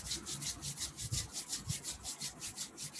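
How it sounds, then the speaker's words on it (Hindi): Two palms rubbed briskly together in a steady back-and-forth rhythm during a quiet morning meditation, each stroke giving a soft, close swish with no talking. "दोनों हाथों को रब करेंगे"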